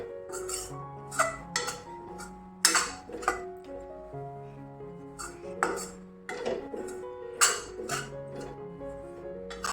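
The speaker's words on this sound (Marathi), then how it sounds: "त्याच्यावर बेसन चांगलं भाजून घ्यायचं आहे आपल्याला।" Gram flour being dry-roasted on low to medium flame yields sparse metallic clinks and scrapes of a spoon against the pan, with ringing tones between quiet pauses.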